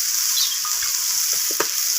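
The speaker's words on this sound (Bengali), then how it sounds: "এখন আমি এর মধ্যে দিয়ে দিলাম পোস্তটা" Brinjal sizzles steadily in hot oil as poppy seeds go in, with a few scraping stirs and clinks of a spatula against the pan.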